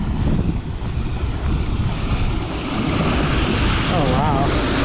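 Water rushing out of a draining desert lake, a loud continuous roar mixed with wind buffeting the microphone outdoors, steady throughout.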